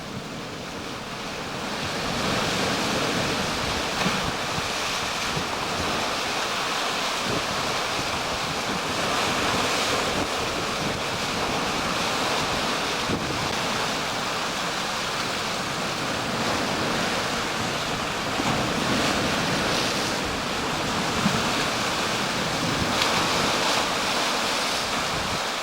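Sea waves wash steadily along coastal rocks and cliffs at Saltwick Bay on the North Yorkshire coast, a continuous broad roar of surf with wind buffeting the microphone, no voices.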